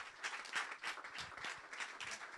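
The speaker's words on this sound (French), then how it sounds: "Applaudissez-les." An audience claps for jury members being called onstage at an event, faint and fairly distant, the clapping rising and falling in uneven waves.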